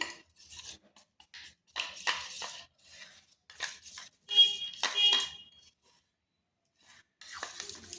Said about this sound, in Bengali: এরপর এতে বিটের রসটা মিশিয়ে দেব। ভালোভাবে মিশিয়ে নিচ্ছি।